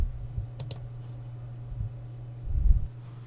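Mouse clicks while working in Premiere Pro, a few quick faint clicks near the start over a steady low hum, with a louder thump-like burst toward the end; no talking.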